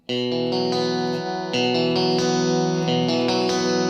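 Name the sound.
electric guitar played with a strong compressor effect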